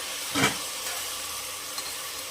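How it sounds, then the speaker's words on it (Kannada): Carrots, beans and potatoes fry in a pan with a soft, steady sizzle and hiss, broken by one brief scrape or stir early on. "ಚೆನ್ನಾಗಿ ಫ್ರೈ ಮಾಡ್ಕೊಳ್ಬೇಕು ನಂತರ ಇಲ್ಲಿ ಬಂದು ಕ್ಯಾರೆಟ್ ಬೀನ್ಸು ಆಲೂಗಡ್ಡೆ ಸೇರಿಸ್ಕೊಳ್ತಾ ಇದ್ದೀನಿ"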